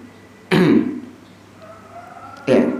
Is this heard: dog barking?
no